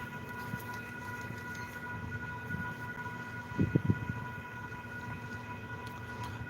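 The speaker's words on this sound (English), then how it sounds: "here we got another train coming." A train coming along the tracks gives a steady low rumble with sustained tonal hum, and a brief cluster of heavier thumps swells midway before it settles back.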